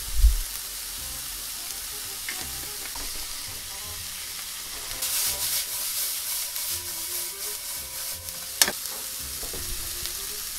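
Onions seasoned with salt, pepper and chili powder sizzle steadily in a hot pan, a soft continuous crackle with a few sharper pops, with no voices.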